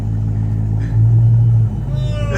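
A car engine rumbles loudly at a car meet, holding a low steady drone that swells briefly in pitch, with faint background voices.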